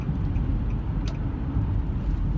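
A car driving along a road, its engine and tyre rumble a steady, loud low drone close by, with no talking over it.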